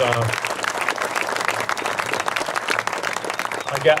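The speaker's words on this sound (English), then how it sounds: "Give him a round of applause, please" Audience applause for a vice president of development at the groundbreaking of the Jay Peak ice arena, steady dense clapping throughout with a small crowd murmur and a louder swell near the end.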